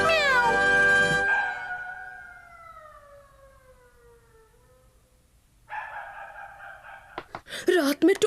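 A cartoon cat gives a drawn-out, wavering meow that slides downward and fades, then a brighter buzzy tone and a few sharp sounds follow.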